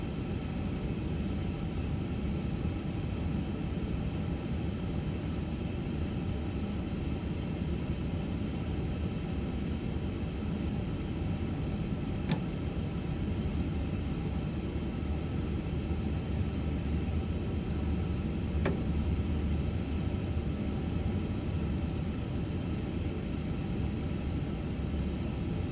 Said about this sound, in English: So we'll do the takeoff